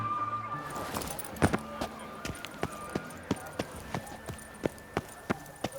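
Roach the horse galloping in The Witcher 3, a regular run of sharp hoofbeats close by over a faint ambient bed, picking up after a brief voice at the start.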